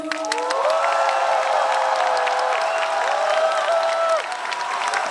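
A concert crowd at a 2025 Republic of Korea Navy patriotic music concert cheers and applauds steadily, with whoops and sustained shouting filling the hall loudly throughout.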